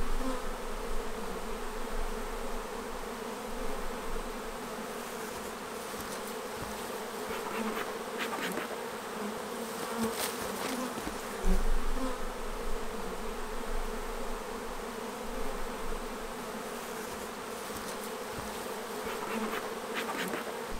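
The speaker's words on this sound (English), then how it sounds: "Try to be careful not to squish too many bees." Honey bees buzz steadily around an open hive during a colony check, a dense continuous drone close by with individual bees whining past now and then.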